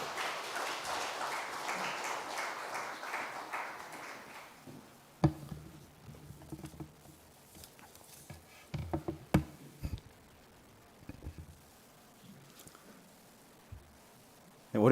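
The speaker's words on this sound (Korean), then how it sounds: "우리 박수로 한번 축복하도록 하겠습니다" A church congregation at a Sunday evening service applauds in a brief burst of clapping that fades after a few seconds, followed by scattered knocks and quiet room noise.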